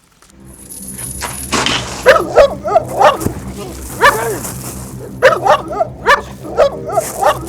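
Several dogs bark in short repeated bursts, some yipping and whimpering, fairly close, over a steady background rumble.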